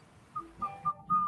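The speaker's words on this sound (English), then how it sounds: "No, you shouldn't whistle at night." Someone whistles four short, faint tonal notes, each a little longer than the last, against quiet room noise.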